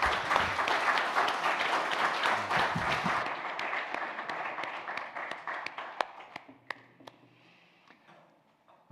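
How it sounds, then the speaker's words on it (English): A church audience applauds a guitarist, the clapping full and sustained for about three seconds before thinning into scattered individual claps that fade to near silence. "So give Rob a big round of applause and his guitars."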